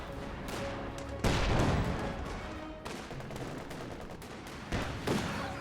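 Bursts of gunfire and heavy booms ring out in a loud, chaotic battle mix in the video game Company of Heroes 2, with shots layered over a constant roar of combat noise.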